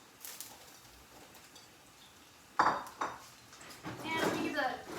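Pasta, about 400 grams, is stirred in a pot, giving a few sharp metal scrapes and clanks of utensil against the pot between quieter moments, ending in a busier run of clatter.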